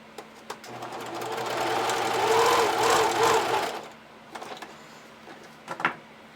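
A sewing machine bastes a silk panty gusset, a whirring mechanical stitching run that builds, holds for a couple of seconds and stops, followed by a few small clicks and handling sounds, close by.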